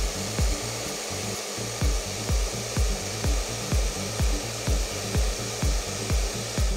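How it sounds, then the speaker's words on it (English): A hair dryer blows steadily while hair is dried over a round brush, a loud continuous whir with a regular pulsing rhythm as the dryer moves back and forth. "you're just gonna take the dryer and just dry through this area until you get it nice and smooth"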